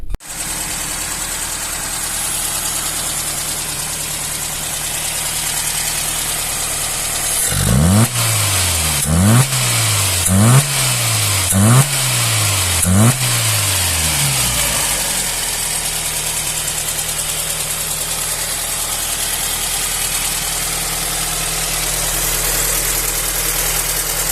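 A car engine fitted with a rebuilt Solex carburetor idles steadily, then revs sharply five times in quick succession before settling back to a smooth idle; close and loud throughout.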